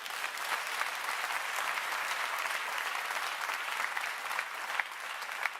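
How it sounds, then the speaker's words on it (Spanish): A church congregation applauding together, a dense, steady wash of clapping that holds at an even loudness for several seconds without voices standing out. "denle un aplauso al Señor"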